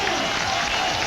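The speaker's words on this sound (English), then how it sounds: "listen to the roar from the crowd" A crowd roars and applauds loudly and continuously at a strongman truck pull, a dense wash of cheering with no break.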